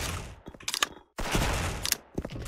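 Gunfire in the online shooter Special Force: several bursts of rapid shots, loud and close, broken by a short silence before another sustained volley.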